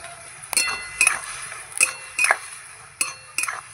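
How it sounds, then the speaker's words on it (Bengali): Metal pot and lid clinking in a kitchen where water lilies are boiling: a series of sharp, bright clinks and taps spaced irregularly, close and alone without talk. "যে ঢাকনাটা খুলে দেখব"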